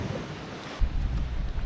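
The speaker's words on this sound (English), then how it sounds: "All the waves breaking on the reef" Waves breaking on a reef, heard from a sailboat under heavy wind between the Caribbean and the Bahamas: a continuous roar of surf and wind buffeting, with a deeper rumbling surge swelling in after the first second.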